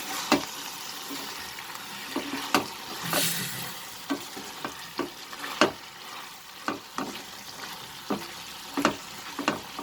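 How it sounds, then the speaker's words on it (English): Cabbage and potato curry sizzles softly in a pan while a spoon scrapes and stirs it in regular clacking strokes, the frying hiss steady and fairly quiet underneath. "Now we will open and saute this for at least 5 minutes more."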